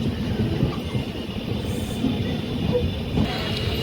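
A train with LHB coaches pulls along platform 2 at Falaknuma railway station, giving a steady rumble of wheels and carriages with a brief faint squeal near the middle.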